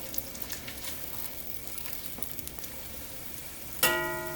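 Half a white onion sizzles in a frying pan, a steady close crackle of frying with small pops, then a louder burst of sizzle and clatter toward the end.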